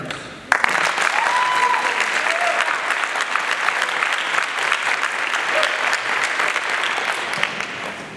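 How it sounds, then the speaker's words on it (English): At the Ivy's Got Talent show during Ivy Week 2022, an audience breaks into sudden loud applause for the judges, with a few whoops and cheers early on, then sustained thick clapping that tapers slightly toward the end. "Please give them a round of applause."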